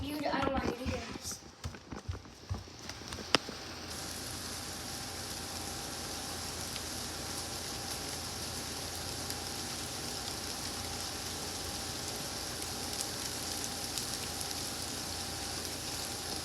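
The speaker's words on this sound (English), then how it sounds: "See, it is raining, and it is so nice." Steady rain falls outdoors, a continuous even hiss of drops on surfaces after a few brief knocks and rustles at the start, moderately faint but constant throughout.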